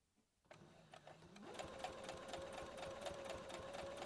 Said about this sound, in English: I hope my sewing machine's not too loud.